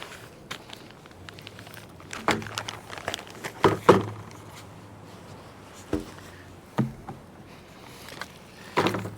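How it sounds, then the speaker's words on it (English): An RV window awning being pulled from its packaging, with scattered crinkles, rustles and sharp knocks and scrapes of packing material, close and irregular against a quiet background. "Let's see, pull our awning out."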